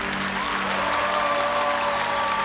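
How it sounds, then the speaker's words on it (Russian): Studio audience at a Russian music TV show applauds in a dense, steady wash of clapping, moderately loud, with a faint sustained musical tone underneath. "Аплодисменты."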